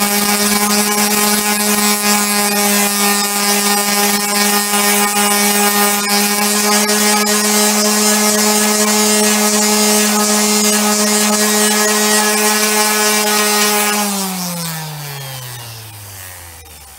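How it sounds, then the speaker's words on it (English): A power sander works on the composite tip of a Hobie Getaway mast. It gives a loud, steady, high whine for about fourteen seconds, then spins down with a falling pitch. "I'm going to finish sanding this off"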